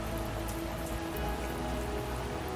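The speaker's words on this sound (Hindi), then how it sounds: "आहा, ये क्या मुसीबत है, अब बारिश भी।" Steady rain falling, a dense even hiss of drops on surfaces with no pauses, continuous and fairly close, no voices.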